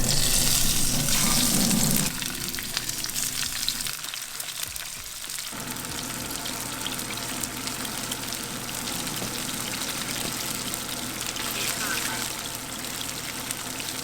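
Tuna fillets sear in a blend of olive and sesame oil, a loud crackling sizzle that drops briefly before resuming steadily, with some background noise.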